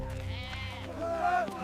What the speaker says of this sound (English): Ramu, you check your sheep